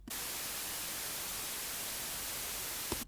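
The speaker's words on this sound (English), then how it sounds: "so it just sounds like white noise. It is white noise." Steady, loud hiss of broadband white noise, unchanging for about three seconds, starting and stopping abruptly.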